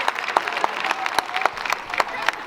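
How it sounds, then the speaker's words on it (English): A graduation ceremony crowd claps steadily throughout, dense overlapping hand claps with sharper individual claps popping out near the front and faint voices mixed in. "I want to give a special round of applause to you guys"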